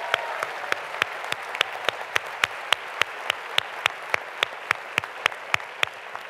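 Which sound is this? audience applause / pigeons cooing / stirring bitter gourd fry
audience applause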